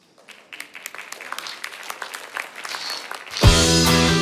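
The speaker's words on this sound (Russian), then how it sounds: "Это нашему городу аплодисменты" Concert audience applauding for the city of Podolsk on its 235th anniversary: a steady, moderately close wash of clapping that builds, then music swells in over the last second.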